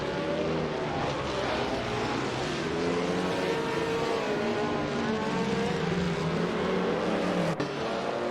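1950s Formula 1 race cars lap the Bridgehampton circuit in a racing video game, a continuous droning engine roar with shifting pitch that stays steady and fairly loud throughout.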